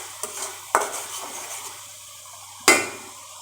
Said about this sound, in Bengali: এখন মশলাগুলোকে ভালো মতো কষিয়ে নেব।